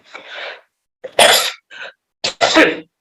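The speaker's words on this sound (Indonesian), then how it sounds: "terlalu semangat ngomong sampai batuk-batuk" A person coughs several times in short, harsh bursts, close up, with brief pauses between them.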